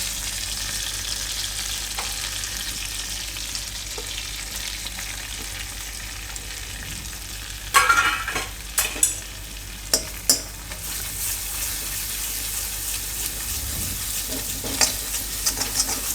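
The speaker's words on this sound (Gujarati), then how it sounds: "માખણ અહીં આપણે ગરમ થઈ ગયું છે એમાં લસણ નાખી દઈશું" Grated garlic fries in hot butter in a pan for tomato corn soup, with a steady soft sizzle throughout and several sharper stirring clatters and crackles in the middle and near the end.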